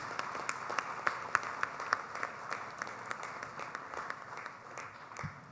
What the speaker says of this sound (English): Let us have a big applause for our chief guest.